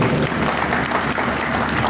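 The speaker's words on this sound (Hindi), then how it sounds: "उसके लिए भरपूर तालियां होनी चाहिए" Dense, steady applause from a banquet audience at an Eid gathering, many hands clapping together at an even, loud level throughout.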